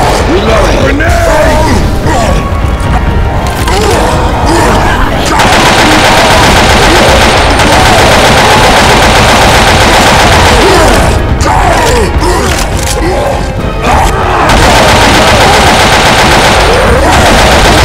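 Loud, sustained machine gun fire rattles through a video game firefight, with grenade blasts and mechanical clatter dense throughout and brief dips in intensity, while players talk over the din.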